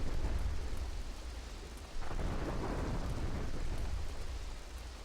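Rain and thunder from the Grand Theft Auto III Definitive Edition video game form a steady downpour hiss, broken by a low rumbling swell of thunder midway, with no talking.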